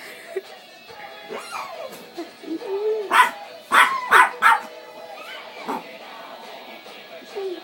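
Small dog barking in quick yips and a whimper amid a lively indoor scene, sharp bursts clustered in the middle, with people talking and laughing around it.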